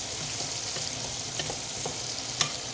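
Onions fry in a pan for a pasta dish with a steady broadband sizzle, and soft spatula scrapes tap through it now and then, with no talking.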